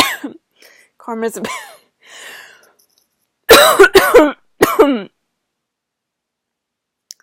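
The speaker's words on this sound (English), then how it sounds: "Now I really have to cough." Several harsh coughs burst out close to the microphone, a quick cluster after some quieter breathy vocal sounds and a few spoken words.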